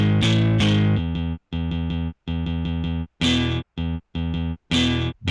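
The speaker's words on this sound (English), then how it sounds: "So this is the cleanest distortion." Tape distortion from the IK Multimedia Tape Machine plugin at its highest tape speed, best tape and best bias, colouring a series of loud, sustained musical notes played in short chopped phrases with brief gaps between them.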